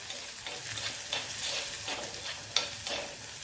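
Crushed spices sizzle steadily in hot oil with mustard seeds and fenugreek for rasam, a continuous crackling fry with light stirring scrapes and one sharper pop near the end.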